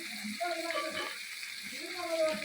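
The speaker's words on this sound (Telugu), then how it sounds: "ఇదిగోండి ఆనియన్స్ ఇలా వేగుతుంది కదా" Onions, green chillies and curry leaves fry in hot oil with cumin for a spicy chicken curry, giving a soft, steady sizzle that stays faint and even throughout.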